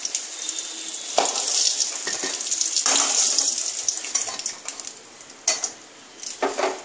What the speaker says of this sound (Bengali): আলুটা ভাজা হয়ে গেছে, আমি তুলে নিলাম।